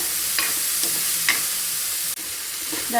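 Chopped onions sauté in a pan with a steady, close sizzle and a few quick stirring scrapes of a utensil.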